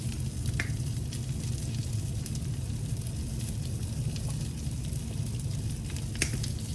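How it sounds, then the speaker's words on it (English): Pork fries in a pan with a little sesame oil, giving a loud continuous sizzle and crackle over a low rumble, with a few brief scraping stirs. "Here we're going to add just a little bit more sesame oil."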